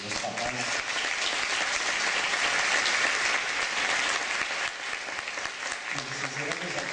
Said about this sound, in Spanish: también un gran aplauso de los papás